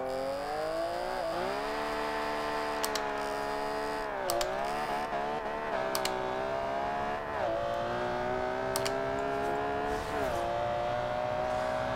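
A 2002 Ferrari Enzo with a fully built 6-liter V12 accelerates flat out in Forza Horizon 2. The engine screams loud and high, climbing through a series of gear shifts with a brief dip at each change.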